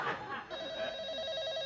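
A telephone rings with a steady, warbling electronic tone, starting after a brief burst of voices and continuing without a break.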